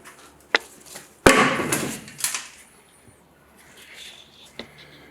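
Sharp knocks and clacks of metal striking parts, a few isolated hits followed by a louder burst of rattling, then quieter clinks.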